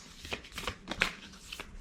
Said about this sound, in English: Okay, one more shuffle.